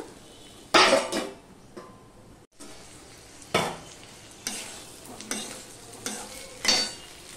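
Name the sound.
frying and stirring ginger, tomato, potato and papaya in pan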